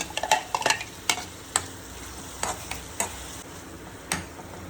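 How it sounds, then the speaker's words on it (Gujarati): Onion and crushed tomatoes cook in a pan, a low sizzle under sharp, irregular clicks and taps of a utensil stirring against the metal, fairly close, with no voices. "જો ડુંગળી સતરાઈ ગઈ છે એટલે હવે આપણે આમાં નાખશું ટમેટા."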